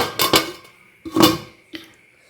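Metallic clanks of a lid settling onto a pot of simmering fish curry: two quick clatters, a pause, then a louder ringing clank and a small final tap, close by.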